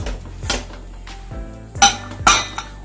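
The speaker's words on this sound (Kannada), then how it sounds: "ಈಗ ಲಿಡ್ ನ ಕ್ಲೋಸ್ ಮಾಡ್ತಾ ಇದ್ದೀನಿ" Metal clanks and clinks as a pressure cooker lid is fitted and closed while moong dal kheer cooks, a few sharp knocks spaced out over a few seconds with a steady hum beneath.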